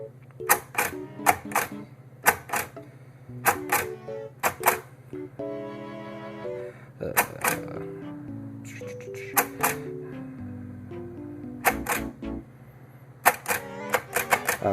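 Keys of a manual typewriter strike in quick bursts of sharp clacks, with a ratcheting carriage sweep and a ding-like return partway through, close and clear with no talking.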